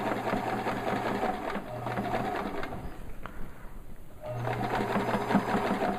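Sewing machine hemming a pocket edge over elastic and webbing, its motor whirring in close bursts that stop briefly in the middle, then start again.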